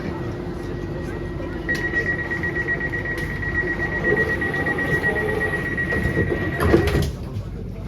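An Elizabeth line train runs westbound toward Heathrow Terminal 4, with a steady low rumble and hum inside the carriage, a faint tonal whine and some rattling near the end.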